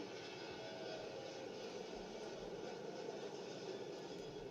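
An airplane taking off heard from the ground, a steady, broad engine roar at moderate distance, continuous and fairly faint with no talking.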